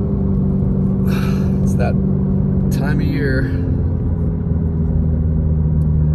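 Car driving around town in Big Bear before a snowstorm, a steady low engine and road rumble running throughout with a person talking over it.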